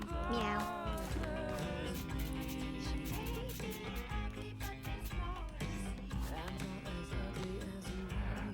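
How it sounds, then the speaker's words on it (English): Cartoonish cat meows from the video game Mewgenics repeat over busy, layered game music, moderately loud and continuous throughout. "Meow."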